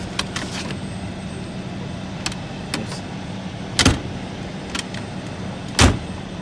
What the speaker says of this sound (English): See how the door closes.